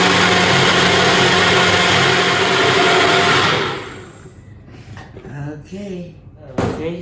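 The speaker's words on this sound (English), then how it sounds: "Okay, so let's blend this thoroughly" A blender whirs loudly as it purees a plant-based high-protein green matcha smoothie with bananas and agave, a steady dense roar that cuts off after about four seconds, followed by quieter clatter and brief voice.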